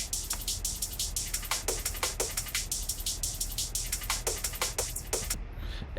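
An unprocessed drum-and-bass drum break loops with steady, fast rhythmic hits over a constant washy, noisy cymbal texture, playing alone at moderate loudness.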